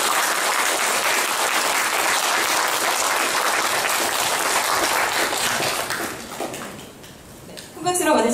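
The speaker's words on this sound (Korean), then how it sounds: "큰 박수로 맞아주시기 바랍니다" Audience applause welcoming author Kim Jong-dae to the stage at a talk about Yi Sun-sin and the Busan naval battle, dense sustained clapping that fades out near the end as a voice starts speaking.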